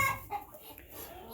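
Backyard chickens clucking in short, faint bursts close by, with a brief sharper call near the start and quiet gaps between.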